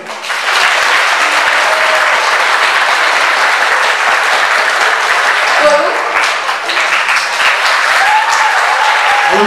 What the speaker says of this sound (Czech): Potlesk pro Alici.